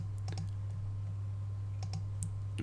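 A few soft computer mouse clicks while selecting a camera in software, brief faint taps scattered over a steady low hum, with no talking.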